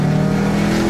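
A Mitsubishi Eterna fitted with an Alva Garage exhaust gives a loud, close engine note, a sustained, buzzy drone held at high revs for under a second.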